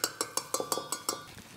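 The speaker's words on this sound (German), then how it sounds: "Dann rührt man es nochmal durch." A spoon stirs vegetable seasoning through a diced aubergine and tomato mixture in a pot, giving a quick run of about eight sharp, close scraping clinks that fade out toward the end.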